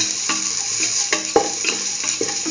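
Chayote, bell pepper and rice stirred and scraped in a pan, steady close sizzling with a few sharp spoon clicks against the metal, no voices.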